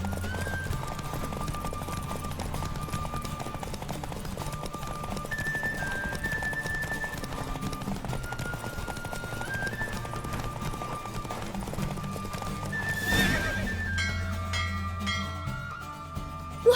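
Horse galloping in a race in The Witcher 3, with quick rhythmic hoofbeats pounding steadily under game music. A swelling rush of noise comes near the end, then the hooves go quiet.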